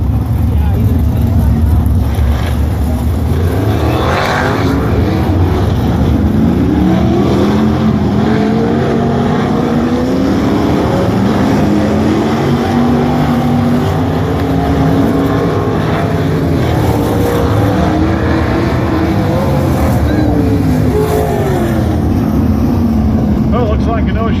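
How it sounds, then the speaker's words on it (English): Race cars circle a speedway track warming up before heat races, a continuous loud drone of engines rising and falling as they pass, with an announcer speaking over the PA throughout. "8 cars on the tracks."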